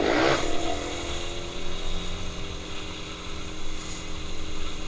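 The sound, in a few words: loud motorcycle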